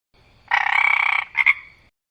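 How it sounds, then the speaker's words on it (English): A single frog croak, a loud rasping call of about three-quarters of a second followed by a shorter second burst, heard close and alone against silence. "frog"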